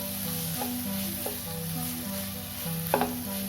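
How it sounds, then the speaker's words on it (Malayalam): Sliced tomatoes sizzle steadily in a hot pan for a vegetable salna, with a constant frying hiss and a few sharp scraping strokes of a stirring spoon. "തക്കാളി ചേർത്ത് കൊടുക്കുകയാണ്"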